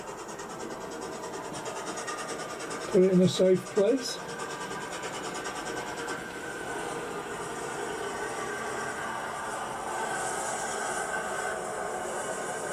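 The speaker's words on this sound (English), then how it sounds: "So you can hear the train coming back in." A model Black 5 locomotive running on its track, a steady mechanical whirr and rumble that grows slightly louder toward the end, with a brief spoken phrase near the start.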